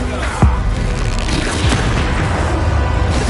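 A Bombarda blasting spell explodes in Hogwarts Legacy, a loud deep boom opening into a sustained rumbling roar of game noise that fills the whole stretch.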